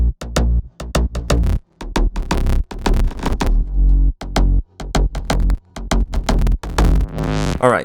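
Layered synth bass from a slap house track plays loud and up front in choppy, rhythmic bursts with short gaps between them and a rising sweep at the end, with no voices over it.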